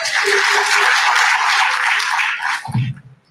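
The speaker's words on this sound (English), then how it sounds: "give yourselves a big round of applause." Conference audience in Miami breaks into loud, sustained applause that fills the hall for nearly three seconds, then abruptly fades, with a few voices and a low rumble as it dies away.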